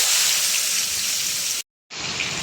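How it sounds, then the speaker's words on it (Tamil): Onions sautéing in hot oil and butter for vegetable biryani: a steady, bright hissing sizzle that cuts out briefly to silence before the frying resumes. "வெங்காயத்தை லைட்டாக வதக்கினா போதும்."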